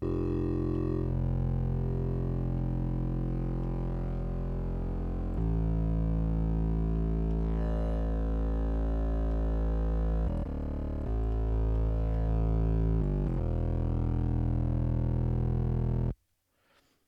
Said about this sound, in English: We could add like, I don't know, a really, really subtle bit of comb filtering.